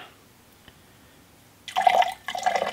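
Indian tonic water is poured into a colour-changing gin, a short splashing pour starting after a quiet pause, briefly stopping and then resuming, close and moderately loud.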